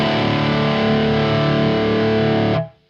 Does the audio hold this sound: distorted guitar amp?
yes